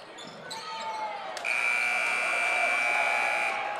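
A long electronic buzzer sounds at the end of a boys' high school basketball game between New Canaan and Norwalk, a steady loud tone held for about two seconds over crowd noise and squeaking in a gym.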